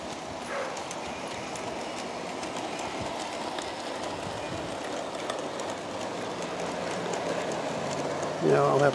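An Aristo-Craft Mallet model train rolls steadily across a viaduct on a garden layout, producing a continuous rumbling clatter at moderate distance with a brief louder burst near the end.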